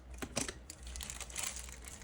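Plastic piping bag crinkling and rustling at close range as scissors snip a small tip at its top, with irregular crackles and a couple of sharper bursts over steady low background noise.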